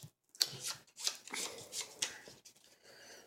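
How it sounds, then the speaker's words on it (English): A deck of playing cards being shuffled by hand, several quick riffling and sliding bursts close up with short pauses between them, no talking. "I'm even going to mix up the cards."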